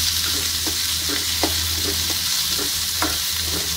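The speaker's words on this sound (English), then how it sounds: "Then we will add the chopped onions." Chopped onions sizzle in hot oil with cumin seeds in a kadai, a loud steady frying hiss close up with light stirring taps, no voices.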